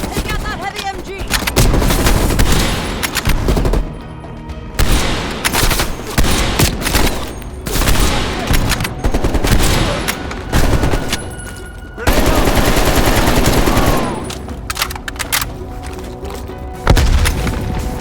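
Heavy machine gun fire rattles through a Call of Duty: Black Ops Cold War firefight, loud sustained bursts and booming impacts with brief pauses, soldiers' shouts faintly mixed in.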